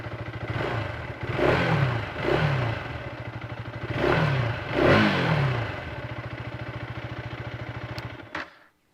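A 2025 KTM Adventure 250 motorcycle engine idling with a steady throbbing beat, blipped into four quick revs that rise and fall, close by, then cut off abruptly at the end.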